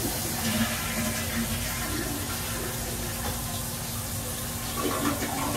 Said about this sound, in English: That flushes nicely.